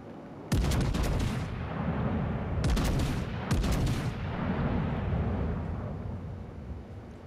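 Gunfire in Fortnite: several loud bursts of rapid shots in quick clusters near the start and middle, followed by a sustained rumbling wash of noise.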